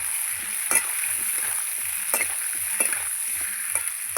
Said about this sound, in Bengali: পেঁয়াজ দিয়ে আলু সিমের সঙ্গে ভালো করে নাড়িয়ে ভালো করে আমি ভেজে নেব